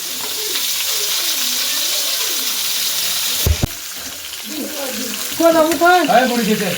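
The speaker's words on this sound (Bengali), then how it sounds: "সিম ভাজা হচ্ছে এখানে" Broad beans sizzle steadily in a hot pan while voices talk over it, with a brief clatter partway through.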